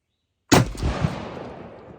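A single loud blast from a Mossberg 940 Pro turkey shotgun with an 18.5-inch barrel, fitted with a Jebs 655 choke and firing a Winchester XX shell, bursts out of silence and decays into a long outdoor echo.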